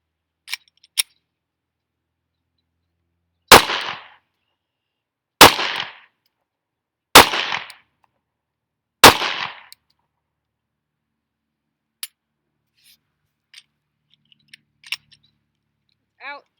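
Four loud, sharp pistol shots from a Smith & Wesson M&P9 Shield EZ firing MagTech 9mm Luger 115-grain full metal jacket rounds, evenly spaced about two seconds apart with short ringing tails, then a few faint clicks.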